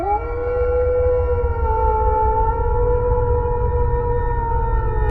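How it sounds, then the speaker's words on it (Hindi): A cartoon dog lets out a long, sustained howl beside a river, a loud wavering tone over a low rumble that holds steady for several seconds, heard alone without talk. "ये पनडुब्बा नहीं बल्कि एक कुत्ता भौंक रहा है।"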